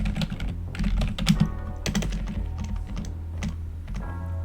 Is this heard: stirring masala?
no